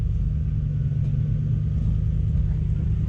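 A Toyota Surf 4WD with a 1UZ-FE V8 swap drives off-road, its engine a close, steady low rumble that drones evenly throughout without pauses or talking.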